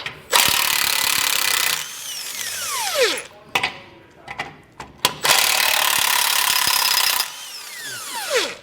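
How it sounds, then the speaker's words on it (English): Power ratchet or impact tool with a 15mm socket spinning out tow hook bolts on a 2023 Ford Ranger: two loud, sustained bursts of high whirring, each slowing down at the end, with clanks and handling noise in between. "Remove both of our tow hooks"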